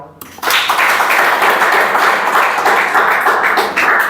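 A classroom of students claps hands together, a sustained dense burst of applause that starts abruptly and holds steady for several seconds.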